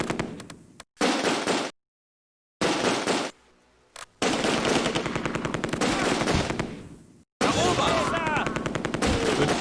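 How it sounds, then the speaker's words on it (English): Rapid machine gun bursts rattle in the Close Combat war game, several loud clattering volleys separated by abrupt silences, with a final burst trailing off. "The other machine gun."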